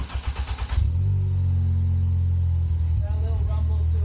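Car fitted with a DIY upgraded exhaust fired up from a cold start: a few choppy cranking pulses, then the engine catches into a loud, steady low drone close by.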